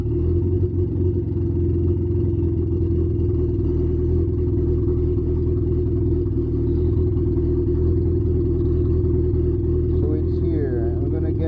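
A second-generation Mitsubishi Eclipse engine idles while its fuel is tuned with an AEM FI/C controller, giving a loud, steady, low rumble that carries on throughout, with some talk over it.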